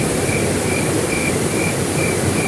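Steady insect chirping like crickets, a dense continuous high trill with faint regular pulses, loud and close, with no talk over it.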